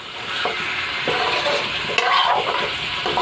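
Beef stirred and fried in a pan, a steady loud sizzle with spoon scrapes and stirring knocks coming every second or so, close up and with no voices.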